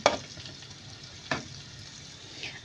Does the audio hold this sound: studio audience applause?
no